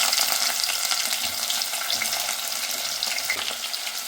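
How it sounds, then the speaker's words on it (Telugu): Chopped onion sizzling as it hits hot peanut oil in a pan, a loud, dense, continuous hiss without pause. "ఇప్పుడు ఆనియన్ కూడా వేసేస్తాను"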